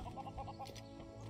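Chickens cluck in LEGO Worlds, a quick run of close, rhythmic clucks over a low steady hum, with no voices.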